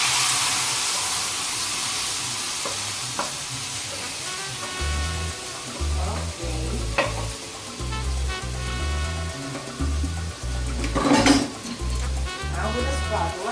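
A vegetable mixture frying in a heated skillet, a steady hiss and sizzle with rhythmic stirring scrapes, and a voice speaking over it.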